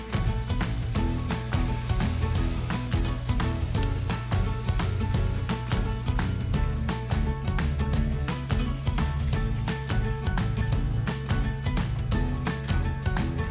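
Nashville hot lobster tails grilling on a Big Green Egg, a close, continuous sizzle and popping that stays loud and even throughout, with no one speaking.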